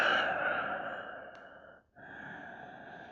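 Deep breathing during a yoga forward fold: a long, airy exhale close up, a brief pause, then a steady inhale, with no talking.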